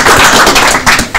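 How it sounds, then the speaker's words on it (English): Audience applause for a presenter at a tech meetup, a short burst of dense clapping close by that dips briefly and then swells again. "Another round of applause, for Guy"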